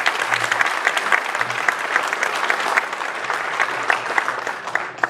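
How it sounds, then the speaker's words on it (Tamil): Loud, sustained applause from a large audience at a Tamil movie audio launch event, dense continuous clapping with faint crowd murmur beneath, no voices over it. "அதுக்கு உங்களுடைய கைத்தட்டு தான் அவங்களுக்கு போய் சேரும்."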